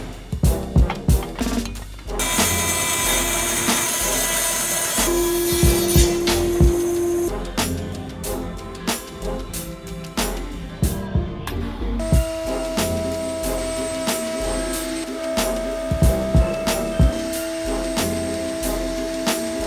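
A router fitted with a spiral cutter pattern bit cuts wood for guitar stands: loud, harsh bursts of high-pitched whine and chatter, stopping and restarting, with a sustained tonal hum between passes.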